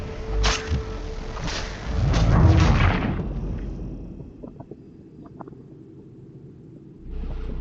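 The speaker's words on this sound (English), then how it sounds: "Those cannons are like to cause trouble." A deep cannon blast in Assassin's Creed IV: Black Flag booms and rumbles for a couple of seconds over a windy hiss, followed by a few faint clicks.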